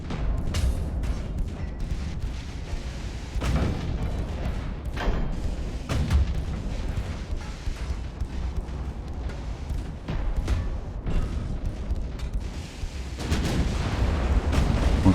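Battleship main guns firing in Ultimate Admiral: Dreadnoughts, a series of heavy booming salvos at irregular intervals, each a sharp thump with rolling low rumble, over constant low background noise of the naval battle.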